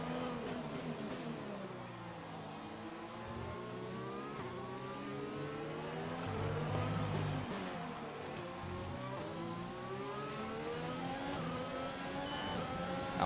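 A Formula 1 race car engine in the F1 2020 video game at Mexico screams through rising upshifts as the car accelerates out of a corner, loud and continuous with no talk.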